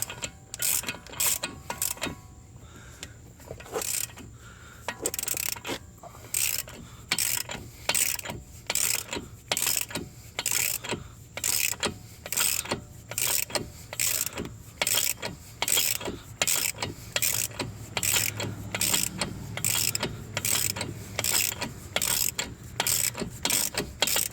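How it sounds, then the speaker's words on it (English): A ratchet clicks in steady, repeated bursts of strokes while snugging down the CV axle nut on a Chevy Cruze, loud and close, with no talking. "We're going to go ahead and just snug it down as far as we can snug it."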